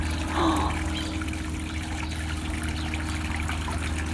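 A garden waterfall trickles and splashes steadily while birds bathe in it, a continuous close wash of flowing water with a brief brighter splash near the start.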